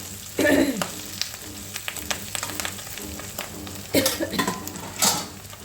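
Fatty fish pieces frying as their fat melts into the oil make a soft sizzle, with occasional louder bursts and a few light clinks of a utensil against the pan.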